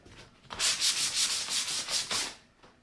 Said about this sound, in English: I'm just going to sand over it just to kind of